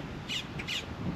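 A bird gives two harsh, raspy squawks in quick succession at a fishing port in Port Canaveral, Florida, fairly close and clear over low background noise.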